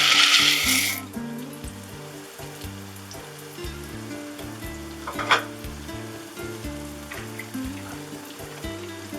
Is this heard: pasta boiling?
yes